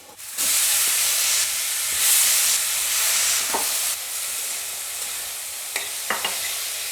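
Banana stem dropped into a hot pan of spices such as turmeric and cumin, setting off a loud, steady sizzle and hiss of frying. A few scraping stirs come near the end, with no talking.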